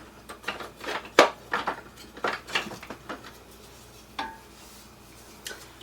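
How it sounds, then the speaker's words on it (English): Stirring pumpkin soup in a pot over medium heat, a spoon clinking and scraping against the pot in irregular close taps and knocks with quiet gaps between. "gonna give that a stir"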